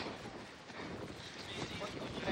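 Steady wind rushes and buffets across the microphone on a hillside above Bhavnath, Junagadh, a continuous broad roar with no pauses.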